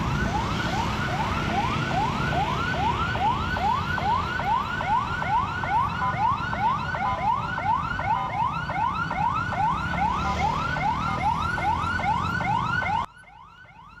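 Ambulance siren at a roadside accident scene, rapid repeating yelp cycles sounding loudly and evenly for about thirteen seconds before cutting off abruptly amid street noise.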